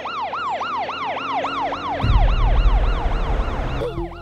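A loud ambulance siren wails in a rapid rising-and-falling pattern, close by, with heavy engine rumble joining partway through.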